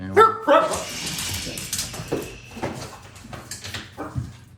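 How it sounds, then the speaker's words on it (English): Household dogs bark sharply twice, then whimper and yip in a restless run of smaller sounds at close range; a person speaks briefly. "Sorry about my dogs."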